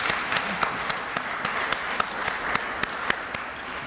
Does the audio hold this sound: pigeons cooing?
no